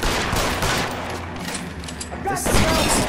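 Pistol and rocket launcher fire in the L.A. Noire video game, a dense continuous barrage of overlapping gunshots and booms, loud and close, with a voice talking over it and a heavier burst near the end.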